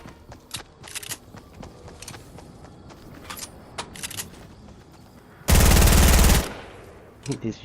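Gunfire in the video game Fortnite: a loud, sustained burst of automatic fire lasting about a second stands out near the end, with scattered sharper individual shots and clicks earlier, all close and dominant over faint background.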